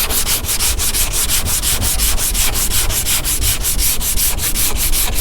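A sanding block with 180 grit sandpaper scrubs car bodywork in a crisscross pattern, with loud, close, rhythmic rasping strokes repeating evenly at about four per second throughout.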